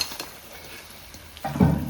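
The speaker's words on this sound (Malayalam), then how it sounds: "ഇങ്ങനെ ഇളക്കി കൊടുത്താൽ" Cooked cassava is stirred in a pan with a spoon, a soft scraping followed by a louder stir and clink near the end, close and quiet with no talk.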